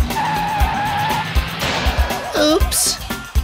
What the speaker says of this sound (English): Monster trucks rev their engines before a race.